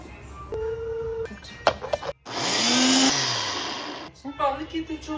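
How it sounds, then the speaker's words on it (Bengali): A kitchen blender whirs loudly for about two seconds as it grinds soaked mustard seeds with ginger and green chilli, with a person talking just before and after. "আমি সর্ষে ভিজিয়ে রেখেছিলাম, সেটার সঙ্গে একটুখানি আদা আর একটু কাঁচা লঙ্কা দিয়ে ব্লেন্ড করবো।"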